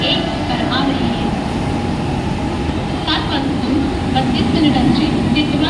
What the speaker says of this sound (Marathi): कल्याण जाने वाली ही लोकल थोड़े ही समय में प्लेटफॉर्म क्रमांक 1 पर आ रही है।